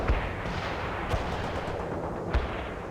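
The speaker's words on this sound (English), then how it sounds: "Mobile mortar firing for effect." Mortar rounds fire in a barrage in the World in Conflict strategy game, Soviet assault, with three sharp thumps at irregular spacing over a steady battlefield rumble.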